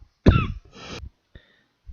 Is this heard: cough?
yes